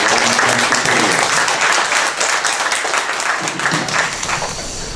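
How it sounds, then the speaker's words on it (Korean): An audience at a summer retreat morning session claps loudly to welcome a pastor to the stage, a dense burst of applause that begins to taper slightly toward the end. "우리가 큰 박수로 환영해 주시면 감사드립니다."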